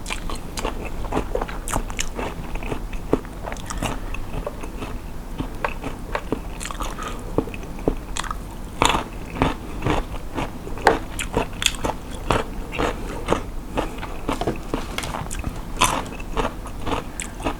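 Seaweed rice crackers crunched up close with a dipping sauce, giving steady dense biting and chewing crackles throughout with no talk.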